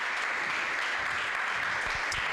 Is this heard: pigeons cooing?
no